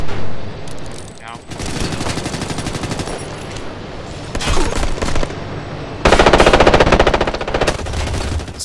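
Machine-gun fire in Ghost Recon Future Soldier rattles out in long, loud, rapid bursts. A dense fusillade swells and pauses, then breaks into a louder sustained volley near the end.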